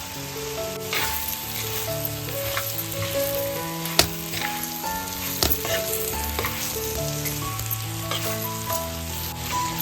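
Oysters sizzle loudly in an onion-coconut masala gravy on a tawa, a dense steady frying hiss with a few sharp utensil knocks as the mix is stirred, with background music and no speech.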